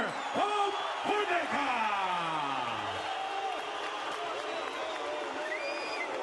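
Arena crowd at an ACB 77 MMA event reacting with loud, sustained noise after a split decision between Arman Ospanov and Alexei Polpudnikov, a dense roar under an announcer's talk.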